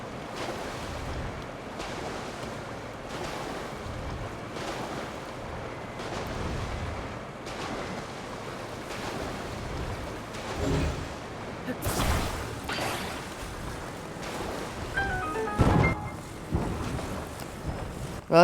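A raft driven by propeller fans glides across water in Zelda: Tears of the Kingdom. Waves wash and wind rushes over a low whirring drone, swelling in repeated surges, with a voice talking over parts of it.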